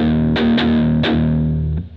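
Low strings of a distorted electric guitar are picked with a palm mute at the bridge, giving a few tight, punchy chugs in quick succession.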